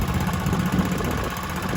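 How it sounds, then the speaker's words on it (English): A Kohler K91 small engine, running after sitting unused for six years with a replaced exhaust, gives a steady loud, close putter and mechanical chug throughout. "It's running really sweet."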